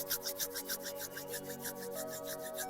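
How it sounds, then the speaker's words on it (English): Palms rub together briskly at the close of a Kundalini yoga session, making a soft, rhythmic swishing friction of quick back-and-forth strokes. The sound is close and faint, sits over a steady background drone, and has no talking. "We'll rub our palms together."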